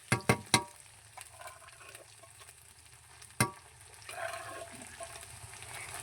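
Onions fry at home with garlic, ginger, cumin and dried chilli paste for a chicken curry: a few sharp utensil clanks open, then a quiet, steady sizzle with light stirring scrapes.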